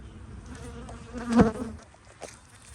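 Honeybees buzz at a hive during its first inspection after winter, a soft steady hum with one louder, closer bee passing briefly near the middle.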